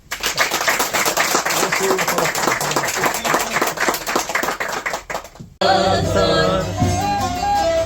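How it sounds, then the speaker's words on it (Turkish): An audience at a folk music evening in Kahramanmaraş claps in a dense burst of applause for several seconds, then it cuts abruptly to music. "Yapalak için bir alkış alalım."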